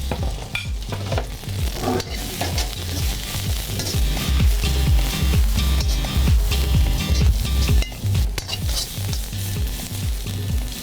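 Carrots and cabbage are stir-fried in a pan, a loud, continuous sizzle with rhythmic scraping and tossing from a utensil, close up and without any talking.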